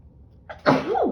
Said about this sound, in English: Oh, I'm gonna sneeze, pardon me.